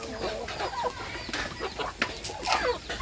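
Chickens cluck and murmur on a farm, several birds making short, overlapping calls at close range over a faint background hiss, with no one speaking.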